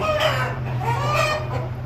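A nearby rooster of a local fighting-cock breed crows and clucks in one short, clear burst, with no talk around it.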